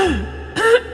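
A single close, loud throat clearing, a rough rasping rumble followed by a second harsher push, heard alone with no talking.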